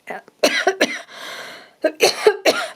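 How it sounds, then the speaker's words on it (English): A person coughs several times up close from dust, harsh bursts in two clusters separated by a short breathy pause. "Sorry about the coughing. I think the dust is getting to me."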